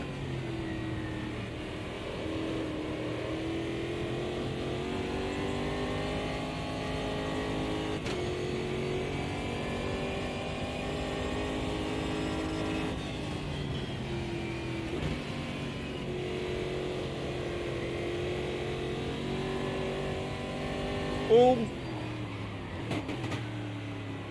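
Steady engine drone of a racing car in the sim game Automobilista 2, rising and falling through revs for a long run with a few brief knocks near the end, loud and continuous with no talk.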